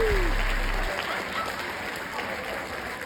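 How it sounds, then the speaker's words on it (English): An audience at a workplace talk gives a steady round of moderate clapping, with a brief low tone at the start and some crowd murmur underneath. "Let's give the younger generations a round of applause"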